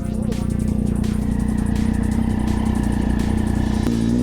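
A Triumph Street Triple motorcycle engine running under load on the road, a loud, steady, close-up drone with a gritty mechanical rasp and a brief shift in pitch near the end, while a rider talks over it.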